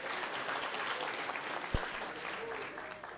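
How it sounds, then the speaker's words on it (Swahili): A crowd at a Shabana FC luncheon at Bomas applauds steadily at moderate volume, a continuous wash of clapping with one sharper thump near the middle. "Nipatieni makofi jamani."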